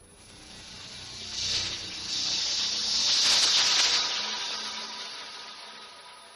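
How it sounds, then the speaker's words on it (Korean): Sound artwork at an iron-themed exhibition, evoking heavy iron masses clashing and whale cries, heard as a broad resonant hiss that swells, surges and fades over several seconds with no talking. "이 소리는 마치 고래 울음소리 같기도 합니다."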